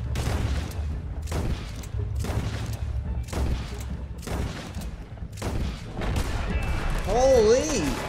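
Heavy gunfire in Red Dead Redemption 2, with a series of loud, evenly spaced booming shots, roughly six or seven in a row, each with a ringing tail. A warbling tone follows near the end.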